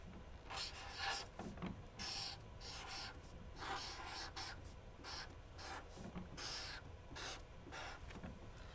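Faint scratching strokes of a pen or pencil on paper, coming in short bursts with brief pauses, close by and quiet.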